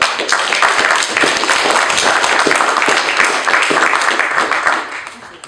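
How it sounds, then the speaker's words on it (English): Congregation clapping in church praise, a loud, dense patter of many hands with sharp individual claps, sustained and then fading at the end. "Give the Lord a big hand clap."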